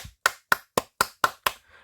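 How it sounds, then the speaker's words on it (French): Six sharp hand claps at an even, steady pace, close and clear, with short silences between them and no talk. "j'applaudis même pour vous dire"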